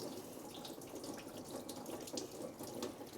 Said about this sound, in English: all of the fluid is now leaking out and hopefully getting caught in my tray